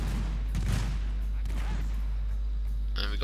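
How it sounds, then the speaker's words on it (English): Musket fire from a volley in Shogun 2 Total War, heard as a few rough bursts of gunfire over a steady low battle hum, with a sharper crack near the end. "We got a volley, though."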